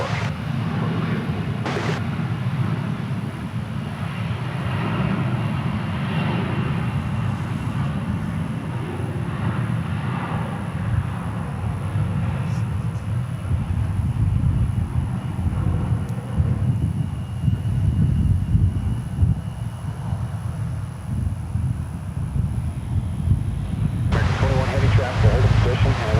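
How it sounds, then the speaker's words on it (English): An Airbus A320neo arriving from Cancun lands at DFW Airport, giving a sustained, broad jet and wind roar that swells gradually toward the end, with people talking throughout. "It's an Airbus A320neo. Shall we watch it come in together?"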